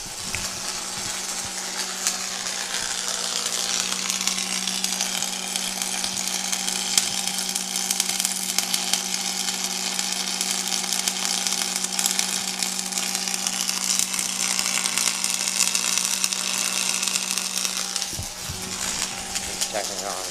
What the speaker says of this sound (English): So now we're just welding it on.